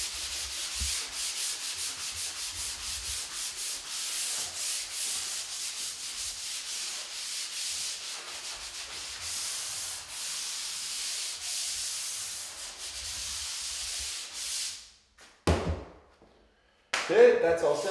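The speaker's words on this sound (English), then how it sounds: "my sanding block, removing these little ridges" Steady rasping strokes of a sanding block scraping over dried drywall joint compound on a taped joint, smoothing small ridges, continuous and close, ending with a few louder knocks and scuffs.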